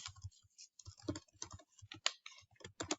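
Keys on a computer keyboard clack in a quick, uneven run of close, crisp taps as a class title is typed into Google Classroom; no voices.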